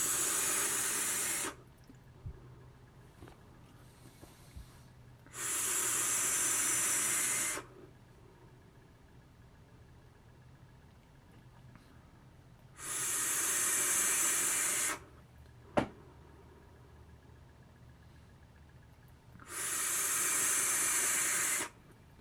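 Four long, steady airy draws through a Geekvape Tsunami RDA with bottom airflow and a stainless steel square build, each a loud, close hiss lasting about two seconds, separated by quiet pauses.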